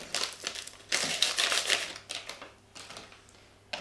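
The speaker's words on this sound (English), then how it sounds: "You pour the sachet in." A nutrition drink sachet is emptied into a shaker holding milk, with close, crisp crinkling and rustling of the packet in short bursts and brief pauses between them.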